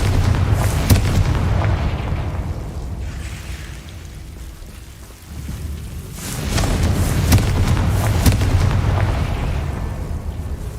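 A Confringo blasting spell goes off in Hogwarts Legacy, heavy booming explosions with a loud rumbling burst, a quieter lull, then another sustained roaring blast near the end.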